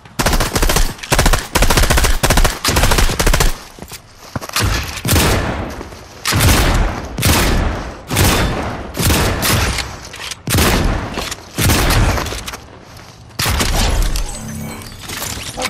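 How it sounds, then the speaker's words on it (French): Rapid volleys of pump-shotgun and other gunfire from a Fortnite match come in loud, dense bursts that keep breaking and restarting with barely any pause between them. "C'est pas le pistolet, c'est le fusil à pompe, mais c'est pas terrible"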